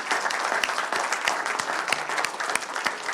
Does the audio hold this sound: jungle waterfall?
no